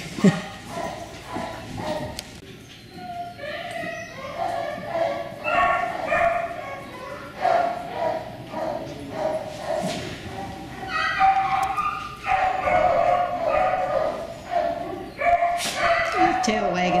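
A Schnockerpoo puppy, a miniature Schnauzer and Cockapoo cross, yips, barks and whimpers in repeated short bursts up close, while a person talks throughout.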